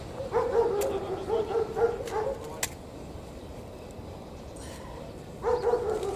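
A dog barks in a quick run of repeated yips, then goes quiet for a few seconds before barking again, fairly close over low background rumble.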